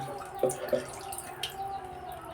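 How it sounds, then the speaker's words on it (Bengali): Water poured over a part of a tube well pump to rinse it, giving faint drips and a couple of small splashes against a low background hiss. "এই তো জল দিয়ে একটু ধুয়ে নিচ্ছি যাতে একটু পরিষ্কার হয়"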